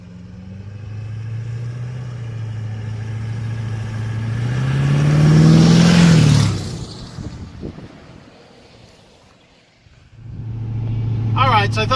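A 2002 Chevy Suburban with a Duramax diesel engine driving, its low engine drone swelling as it accelerates, then easing off to a quieter roll before picking up again, with a voice speaking near the end.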